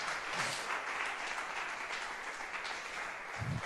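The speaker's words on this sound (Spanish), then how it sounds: "¿por qué no le da un aplauso al Señor?" A church congregation applauds during a Spanish-language sermon, producing a fairly soft, distant wash of clapping that continues evenly throughout.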